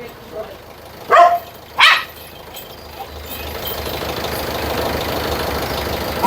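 A pet dog barks twice in quick succession, loud and close, followed by a steady background rumble that could be an idling engine.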